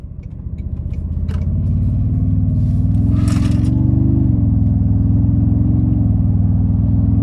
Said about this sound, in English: take this Tundra TRD Pro out on the road for a quick test drive